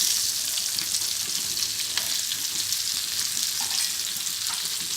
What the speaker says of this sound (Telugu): ఎగ్స్ ఫ్రై చేసుకున్న ఇదే ఆయిల్లో కొద్దిగా ఆవాలు, జీలకర్ర, ఉల్లిపాయ ముక్కలు,